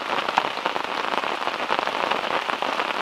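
Steady rain pours onto a surface at a forest campsite during a thunderstorm, a dense, even patter of drops that is close and fairly loud, with no thunder or voices standing out.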